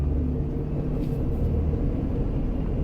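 Manual-transmission car accelerating in second gear after a shift, a steady low engine and road rumble heard from inside the cabin, continuous and fairly loud, with no talk.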